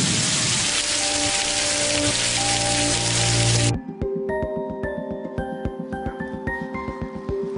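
Heavy rain pours down steadily on a bicycle tour, a dense hiss of drops close by, shifting midway to sharper, crackling drips on a hard surface.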